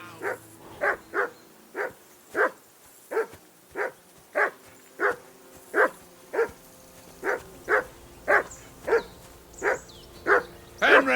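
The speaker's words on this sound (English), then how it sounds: "That barking was a pain in the ass." A dog in the medieval video game Kingdom Come Deliverance II barks in a steady, repeated series of about sixteen sharp barks over roughly eleven seconds, loud and close, with no voices over it.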